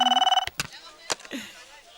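A telephone rings in a Hindi movie scene, a rapid trilling electronic ring at the start that cuts off abruptly, followed by clicks and brief voices talking.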